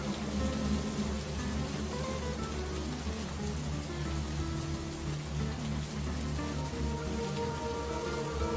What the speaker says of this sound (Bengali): সেই কখন থেকে বৃষ্টি শুরু হয়েছে, এখনো থামছে না।